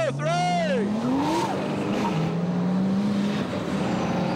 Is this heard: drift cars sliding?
yes